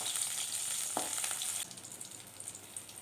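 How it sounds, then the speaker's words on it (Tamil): Cut eggplant fries in sesame oil with a bright, close sizzle that drops noticeably in loudness partway through, joined by a brief stir or shift of the pieces. "நல்லெண்ணெய் ஊற்றி எண்ணெயிலேயே தோல் நல்லா சுருங்குற அளவுக்கு நல்லா வதக்கி எடுத்துக்கலாம்"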